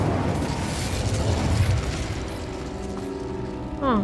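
Incendio fire spell cast in the Hogwarts Legacy video game, a loud rushing burst of flame that roars and then fades, followed by a rising mechanical whine near the end.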